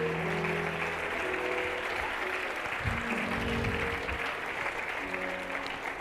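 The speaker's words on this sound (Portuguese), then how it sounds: "Dê um aplauso ao Senhor Jesus por essa equipe, aleluia." A church congregation claps steadily together, a continuous wash of applause with faint voices and some low tones underneath.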